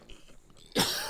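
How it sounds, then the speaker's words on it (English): A single sharp cough bursts out near the mic after a stretch of near-silence, loud and close, with a short throat-clearing tail. "Sorry, I'm coughing."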